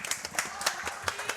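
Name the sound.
audience clapping at women's finals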